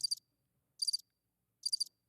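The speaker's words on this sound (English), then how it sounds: "crickets" Crickets chirp in three evenly spaced, high trilling bursts separated by silence, clear and isolated as a sound effect.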